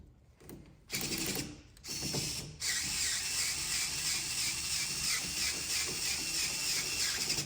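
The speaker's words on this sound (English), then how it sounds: "we can just go ahead and use our screwdriver to tighten all the way" A power screwdriver drives the machine-threaded screws of a Schlage Camelot exterior entrance handleset. It runs in a couple of short whirring bursts, then a long steady whine up close, with no talking.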